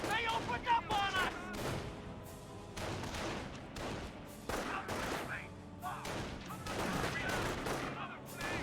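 Bursts of rifle and machine-gun fire in a World War II real-time strategy battle, rapid overlapping volleys with booming impacts, under a commentator's voice.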